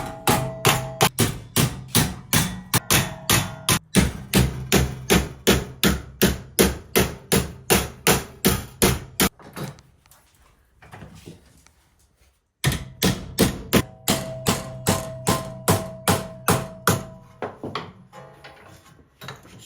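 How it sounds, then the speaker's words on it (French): Hammer blows on sheet metal held over the edge of a square iron bar while shaping wing flares for a Mini Austin; loud, rapid, evenly spaced metallic strikes in two long runs separated by a few seconds of near silence. "toujours bien taper devant sur le bord du fer carré et ramener le marteau par derrière."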